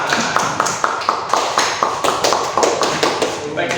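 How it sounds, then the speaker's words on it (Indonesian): A small audience in a classroom teaching session claps in quick, even rhythm, each clap sharp and close, with the clapping going on steadily for a few seconds. "kita berikan tepuk"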